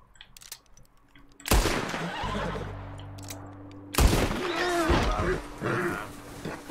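A horse neighs in the Western video game Red Dead Redemption II, a loud burst amid game sounds and gunfire-like bangs, with a steady low hum underneath and bursts of noise around it.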